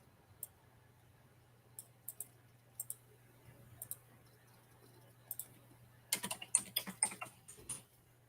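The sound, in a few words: typing on a computer keyboard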